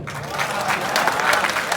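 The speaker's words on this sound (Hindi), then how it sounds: "जोरदार तालियां बजा के बता दो भारत" Audience applause during a Hindi comedy show, a dense burst of clapping from a large crowd that stays steady and fairly loud throughout the short stretch.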